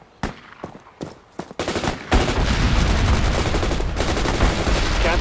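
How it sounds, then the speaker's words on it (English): Rocket launchers firing in the World in Conflict video game: several sharp separate blasts, then a dense roaring barrage that sustains loudly to the end, with faint voice underneath. "Fire some rockets."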